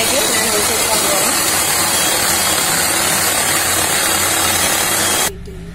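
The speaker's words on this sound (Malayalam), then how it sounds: "ഞാനിവിടെ അത് നന്നായി അടിച്ചെടുക്കുന്നുണ്ട്" An electric beater whirs steadily as it whips powdered sugar and oil into sponge cake batter. The loud, even motor drone runs for about five seconds, then cuts off abruptly.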